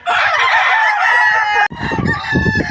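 Young stag roosters crow loudly and repeatedly in hardening pens on a farm, their overlapping calls mixed with clucking from nearby birds, with no talk.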